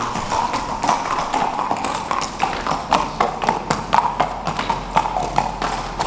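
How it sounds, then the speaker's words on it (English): Hooves clip-clop on a hard surface in an uneven walking rhythm, several horses passing through a tunnel in the Smoky Mountains of North Carolina with a hollow, echoing ring. "Well, it is horses."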